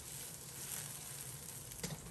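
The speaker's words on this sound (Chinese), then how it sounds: "放入打好的鸡蛋，鸡蛋放进去以后先不要着急搅动，等待其定型" Beaten eggs frying in hot salted oil in a wok for Hunan-style pan-fried eggs, a soft, steady crackling sizzle heard close up with a brief pop near the end and no talking.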